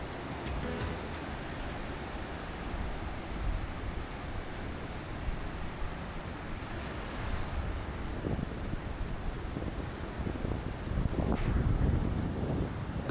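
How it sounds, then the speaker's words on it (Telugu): Wind buffets the microphone at Kovalam beach at night, a steady rushing roar with surf breaking faintly underneath. "మంచిగా గాలి వీస్తుంది."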